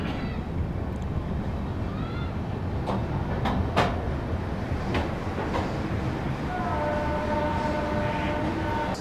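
Inside the Gatimaan Express, India's fastest train, on the move: a loud, constant rolling rumble fills the cabin, with a few brief clicks and thin whining tones rising over it.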